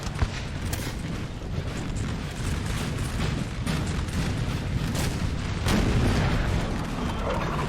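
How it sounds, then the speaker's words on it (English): Booming artillery fire in the video game Napoleon: Total War, a steady dense rumble of cannon blasts and battle noise throughout, no single shot standing out clearly. "Artillery set up in a beautiful position"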